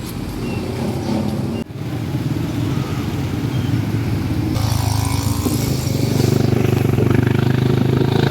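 Steady engine drone of a motorcycle being ridden on the road to Yambo Lake in Nagcarlan, Laguna, heard up close with wind rush, continuous and growing louder toward the end.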